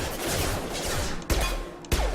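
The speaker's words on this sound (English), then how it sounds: "Shoot them before they take out your shield" Mass Effect combat gunfire: a sustained roar of weapon fire, then two sharp, loud shots in quick succession, close and unaccompanied by speech.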